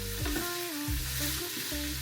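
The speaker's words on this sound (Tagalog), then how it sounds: "Medyo i-prito ko muna siya ng konti." Food frying lightly in a pan, a steady close hiss of sizzling oil under tonal background music with a couple of low thumps.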